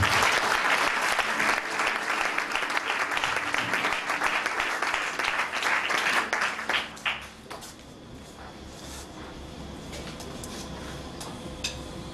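A church congregation applauds loudly and continuously for several seconds, then the clapping fades to a quieter room with scattered sounds.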